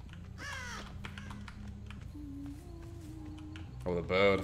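Two loud, harsh crow caws in Dead by Daylight, one near the start and one at the end, with a low game hum and clicks between them.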